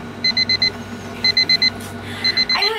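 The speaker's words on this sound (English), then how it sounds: "I know it's 7 a.m., but can you please turn off the alarm because I'm still sleepy." Beeping alarm clock going off at 7 a.m., repeating bursts of four quick electronic beeps with brief pauses between them, fairly close and loud in a quiet room.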